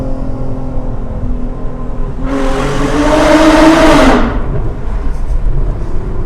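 A 2012 Hyundai Genesis Coupé with a 3.8-litre V6 launches hard in first gear, its engine note rising to a loud, close roar for about two seconds before cutting back to steady cabin rumble.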